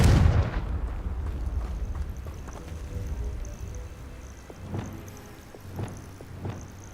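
Confringo blasting spell in Hogwarts Legacy on PS5 bursts with a loud, booming explosion at the start, its rumble decaying over several seconds while a few softer thuds and crackles follow.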